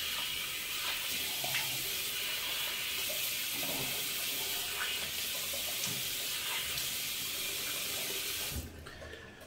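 Tap water runs steadily into a sink while a face is rinsed after shaving, a constant close splashing rush that cuts off abruptly near the end.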